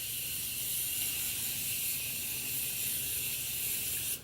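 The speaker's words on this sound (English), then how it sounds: "now I'm going to be using the Morphe Continuous Setting Spray." Morphe Continuous Setting Spray misting out in one continuous fine hiss lasting about four seconds, close and steady, cutting off abruptly at the end.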